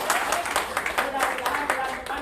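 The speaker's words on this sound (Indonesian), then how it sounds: "tepuk tangan sedikit buat saya" Passengers on a ferry clap briefly, a quick patter of hand claps from a small group heard alongside speech.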